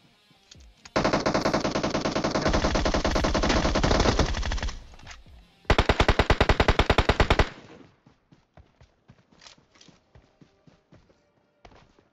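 Gunfire from PUBG Mobile rattles out in two fast automatic bursts: a long one, then a shorter one after a brief pause. Scattered faint clicks and small shots follow, and no one speaks.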